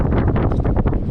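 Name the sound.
strong wind blowing on a boat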